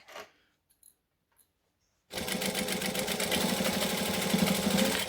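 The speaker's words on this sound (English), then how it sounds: "I'm going to stitch as close to the edge as I can" After a couple of near-silent seconds with faint clicks, a sewing machine starts stitching a fabric edge for a gypsy bag, a loud, steady, close-up buzzing whir that runs continuously to the end.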